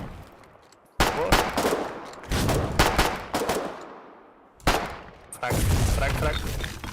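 Bursts of automatic gunfire from a war video game, loud and close, coming in several heavy volleys separated by brief lulls, with game noise filling the gaps.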